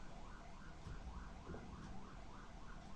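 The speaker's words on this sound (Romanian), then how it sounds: "Se aude și o ambulanță afară" An ambulance siren wails in a repeating rise-and-fall pattern, faint and distant, heard from indoors in Romania.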